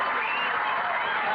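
A high school football crowd at North Haven Indians vs Cheshire Rams cheers and claps as a broad, steady roar, distant and continuous.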